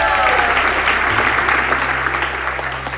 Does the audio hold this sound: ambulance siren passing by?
no